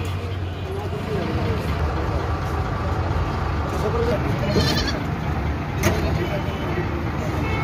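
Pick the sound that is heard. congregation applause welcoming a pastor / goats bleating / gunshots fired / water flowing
goats bleating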